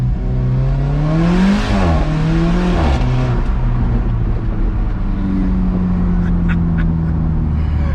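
A loud, close Alfa Romeo 4C sports car engine revs up sharply, its pitch rising and dipping, then settles into a strong sustained roar as it accelerates.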